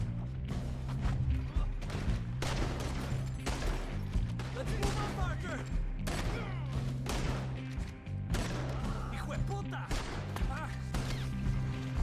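Gunfire in Red Dead Redemption 2, a dense loud volley of repeated shots and thuds over a continuous low music bed, with voices mixed in.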